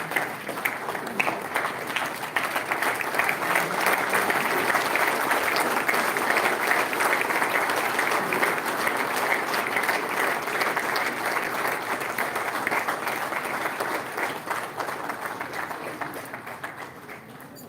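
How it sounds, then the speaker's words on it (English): Sustained audience applause at a Living Legend award ceremony, a steady wash of many hands clapping that holds evenly for well over a dozen seconds before slowly thinning at the end. "join me in a round of applause for a living legend"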